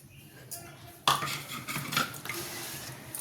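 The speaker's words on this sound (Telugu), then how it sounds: "సరే, పచ్చడి మిక్స్ చేసుకుని చూపిస్తాండి." Coriander chutney gets stirred in a metal pot, with scraping and clinking of a spoon against the pot in a quick series of strokes, close and fairly loud.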